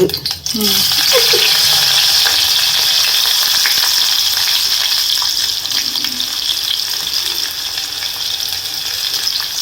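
Mustard seeds, cumin and onions fry in a pan with a loud, steady sizzle throughout, broken by a few brief clinks and stirring scrapes near the start.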